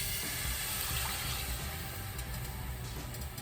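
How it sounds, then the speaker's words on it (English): A cup of balsamic vinegar is poured into a heated pan, a continuous loud rushing, splashing hiss that stays even throughout, with no talking. "And now I'm going to add a cup of balsamic vinegar."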